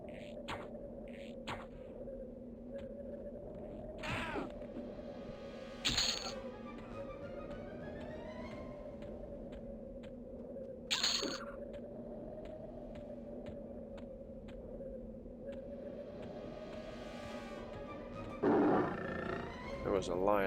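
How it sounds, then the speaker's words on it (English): Lioness in the video game EverQuest gives several short roars spaced across the stretch over a steady low game hum, with no voices present. "There was a lioness up over here."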